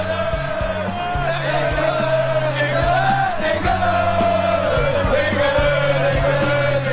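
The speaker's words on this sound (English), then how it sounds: "But we can hear a crowd somewhere singing England, England" Crowd at an English Defence League street rally chanting "England, England" somewhere nearby, a sustained collective sung chant with shouts, heard at moderate distance over outdoor noise.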